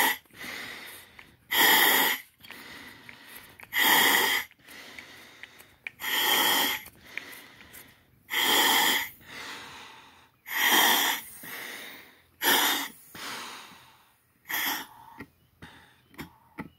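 Heavy, labored breathing through an RKD D40 breathing rig with its air supply cut off: about eight loud, drawn-out rasping gasps at steady intervals, quicker and shorter toward the end, with no talking.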